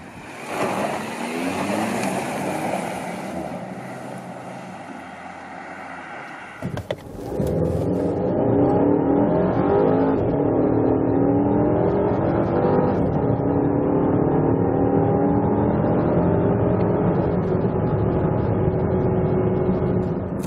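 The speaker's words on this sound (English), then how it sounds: "So that was the acceleration test here of the petrol engine." A 2016 Volvo XC90 T6 petrol engine pulls hard during an acceleration test, a loud, steady drone with road and wind rush rising sharply after a brief gear-change drop, heard from inside the cabin.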